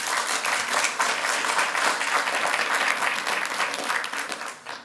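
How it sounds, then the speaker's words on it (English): An audience at a county commissioners meeting claps loudly and continuously for several seconds, a dense close wash of many hands that tapers slightly at the end. "Why are all these beautiful people behind me clapping?"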